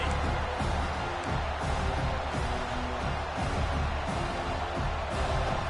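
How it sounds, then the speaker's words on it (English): A stadium crowd in the College Football 26 video game makes a steady, loud, dense roar of cheering and noise that fills the space throughout, with no clear breaks. "This crowd bringing the energy and noise early."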